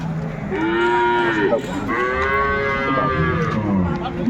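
Two long, loud moos from a dairy cow at a cattle market in Dinajpur, the first rising and falling, the second drawn out, over a busy background murmur.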